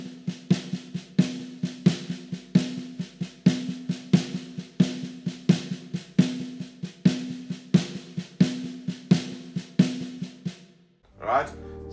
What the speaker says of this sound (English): the first thing I do is I learn it on the snare drum and I learn it at a slow speed